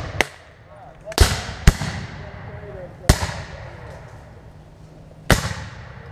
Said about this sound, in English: Ready! Aim! Commence firing!